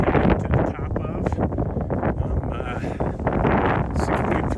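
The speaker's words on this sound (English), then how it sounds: "super windy, so you may not be able to hear too well" Strong wind on a mountain near the top of Big Bald, roaring and buffeting the microphone steadily throughout, loud and close with gusty surges.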